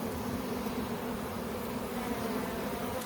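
Dense, steady buzzing of many honey bees swarming around an opened hive during a queen-grafting inspection, a close, continuous insect drone with no pauses or voices.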